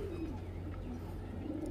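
A pigeon coos softly on a rooftop, a steady low murmur of cooing held faintly throughout against a muted outdoor background.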